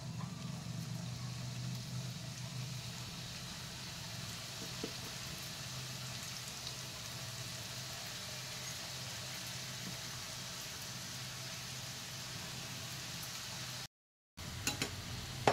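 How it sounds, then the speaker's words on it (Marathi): Champakali pastries frying in hot oil give a faint, steady sizzling hiss throughout, briefly cutting out near the end. "आता मी ह्या चंपाकळी तळण्यासाठी तेल ठेवलेलं आहे।"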